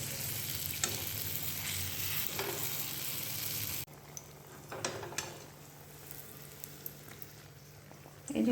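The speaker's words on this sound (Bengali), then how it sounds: "একটু একটু কড়া করে ভেজে নেবো আমি।" Mango malpua batter frying in hot oil in a wok, a steady close sizzle throughout with a few light clinks and stirring taps, the sizzle dropping in level partway through.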